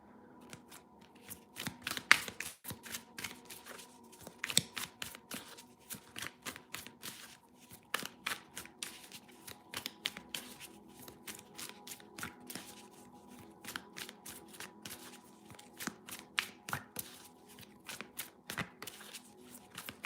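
Tarot cards shuffled by hand in a quiet room, giving a long run of dense, irregular riffling and soft slapping strokes that continue steadily with no talking.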